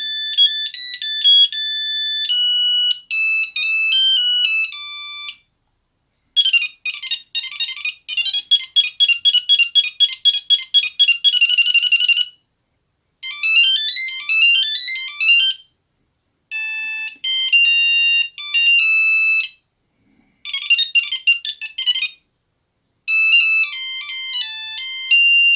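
Bosch 509 Dual mobile phone from around 2000 plays a run of its built-in ringtone melodies one after another, bright electronic beeping tunes with short silent gaps between each, loud and close with no talking.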